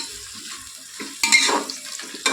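Curry leaves frying in a pan make a brief crackling sizzle that grows louder, with a couple of sharp stirring scrapes close up; no speech.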